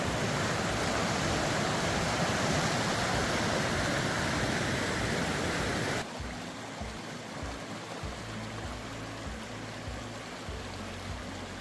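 A mountain stream rushes loudly over rocks at a hiking-trail crossing in a constant, close roar. The sound drops to a softer, lower rush partway through.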